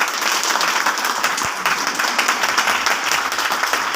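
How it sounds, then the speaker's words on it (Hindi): A crowd at a sales training seminar breaks into loud, sustained clapping, thick and even from start to finish, with no voices over it. "TC छाबड़ा जी के लिए एक बार जोरदार तालियां इसलिए बजा दो"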